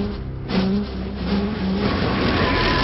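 Race cars from the Nintendo 64 racing game GT64, with loud, continuous engine drone and revving that climbs in pitch throughout, game-style synthetic motor sound with no talking.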